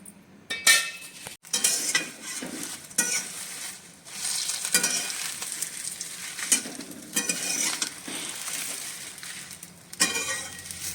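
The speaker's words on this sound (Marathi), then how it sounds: "थोडं तेल टाकते तेजपत्ता भाजून घेणार आहे मी" Bay leaves toast in a little oil in a pan for a Maharashtrian masala, with a steady soft sizzle broken by repeated scraping and stirring clinks of a utensil against the pan.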